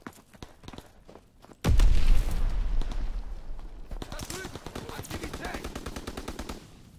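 Machine gun fire rattles in Call of Duty WWII gameplay, a heavy burst followed by continued rapid shots mixed with other battlefield sounds.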